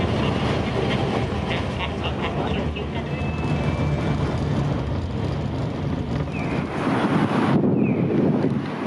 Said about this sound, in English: That was a pleasant tram ride.